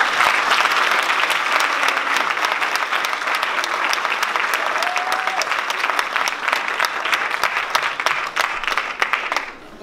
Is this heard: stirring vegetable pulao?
no